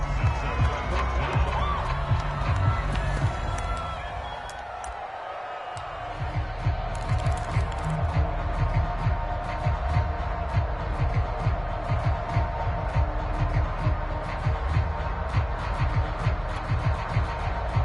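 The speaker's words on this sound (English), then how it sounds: "How about some applause for the defense there?" Steady roar of a large stadium crowd cheering and applauding throughout an American football video game on PS4, with a brief dip in the middle before the noise swells back.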